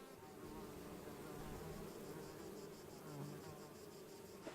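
Honey bees buzz steadily in a small meadow kept for them by a beekeeper on the Greek island of Samothraki. The hum is continuous, soft and fairly close, with no talking.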